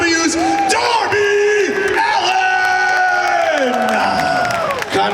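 A loud crowd cheers and applauds for wrestler Darby Allin at a Q&A panel, a sustained roar of whoops and clapping with a voice calling out over it.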